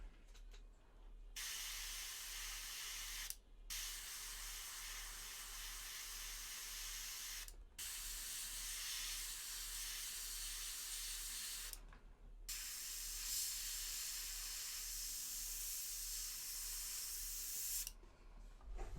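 An airbrush sprays paint in four long hissing bursts separated by brief silent pauses, each burst steady and close, with no talking.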